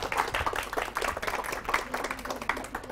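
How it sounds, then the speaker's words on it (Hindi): A studio audience claps steadily throughout a televised Ramzan iftar quiz show, making a dense, continuous patter of many hands at moderate loudness. "आप लोगों की तालियां कहाँ हैं?"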